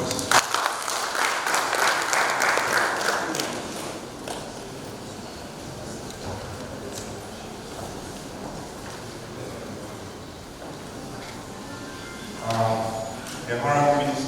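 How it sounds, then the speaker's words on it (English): An audience at a formal education event and book presentation claps for several seconds, and the applause fades into a quieter room before a voice briefly returns near the end. "Please let's applaud him."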